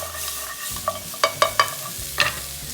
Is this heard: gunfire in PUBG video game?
no